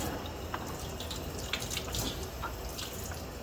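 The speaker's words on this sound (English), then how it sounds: "next we're going to rinse it just a bit, get everything off there" Running water pours steadily over a lithography plate during rinsing, a continuous close hiss and splash with small drips, no talking.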